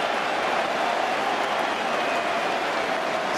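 A large cricket crowd at a 2009 Ashes Test between England and Australia gives off a steady, dense roar of murmuring and clapping, unbroken and fairly loud throughout.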